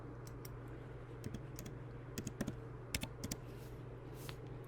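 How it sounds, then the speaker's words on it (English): Keys tapped on a computer keyboard entering a search term, with short bursts of clicks and a few brief pauses, close and fairly quiet over a steady low room hum. "I typed in thread"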